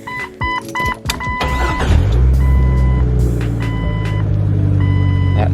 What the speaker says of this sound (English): My buzzer thing is not happy.